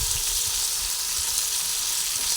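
Okra fries in hot oil while being stirred with salt, producing a steady, close sizzling hiss with no pauses.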